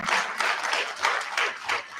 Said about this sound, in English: A round of applause for our ED again.